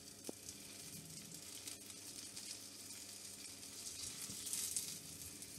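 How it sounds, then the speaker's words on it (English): Cheese gyoza frying in a pan give a steady, soft sizzle, a continuous hiss of crackling oil that holds at an even, fairly quiet level throughout. "Nice sizzle"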